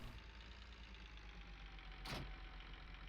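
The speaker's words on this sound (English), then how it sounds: "this is a tiny little tractor" A tiny tractor engine in Farming Simulator 19 idles with a low, steady rumble, quiet and continuous, broken by a short burst of hiss partway through.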